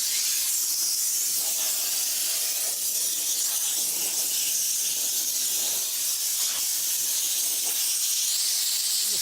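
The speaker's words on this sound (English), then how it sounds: "This is not wet steam, it's dry steam." A dry steam cleaner steams the front seat of a classic Mustang in a garage, giving a loud, steady hiss that runs unbroken throughout, with slight surges and fluctuations and no talking.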